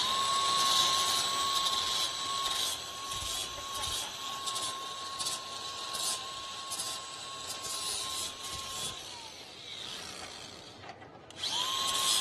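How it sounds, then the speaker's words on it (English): A power tool chamfers a metal edge, running with a steady high whine and grinding hiss for about nine seconds, then spinning down and briefly starting up again near the end. "he's going to chamfer this edge"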